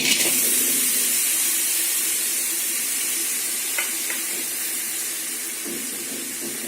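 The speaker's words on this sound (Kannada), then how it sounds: "ಸೊ ಇವಾಗ ಪ್ಯಾನು ಬಿಸಿ ಆಗಿದೆ. ಇದರಲ್ಲಿ ನಾವು ಇಟ್ಕೊಂಡಿರುವಂಥ ಬೆಲ್ಲ ಹಾಕೊಳ್ಳೋಣ." Jaggery hitting a hot pan sets off a loud, steady hiss and sizzle that fades slowly, with a couple of faint clinks partway through.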